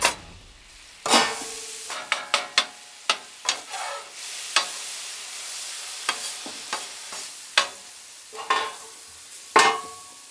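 Cauliflower fried rice sizzles steadily on a hot griddle while a metal spatula scrapes and clacks against it. The sharp strikes come at irregular intervals, close and loud, over a constant frying hiss, and nobody speaks.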